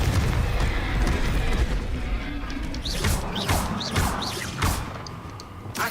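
A Confringo blasting spell in Hogwarts Legacy sets off a rumbling explosive boom with crashing debris in a dense, loud mix, followed by several whooshing bursts and thuds.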